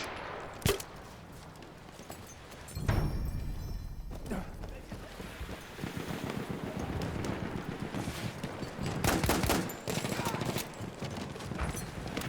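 SMG 08 submachine gun fire in the video game Battlefield 1, with rapid bursts of automatic shots and scattered battle noise at moderate level, under someone talking.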